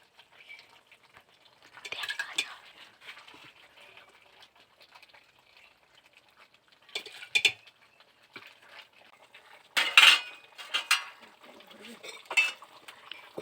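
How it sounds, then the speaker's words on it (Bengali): Pots and metal utensils clink and clatter in scattered bursts as chicken curry meat is transferred into a pressure cooker, with quiet gaps between the knocks. "এবার দেখুন মাংসটাকে এবার প্রেসার কুকারে দেওয়া হবে।"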